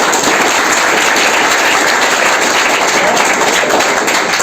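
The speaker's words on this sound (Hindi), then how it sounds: "सबसे पहले एक ताली आज आप अपने लिए बजाइए" Trainees at a Nehru Yuva Kendra training session applaud, producing a steady, dense wash of clapping from a large audience that holds loud and even throughout.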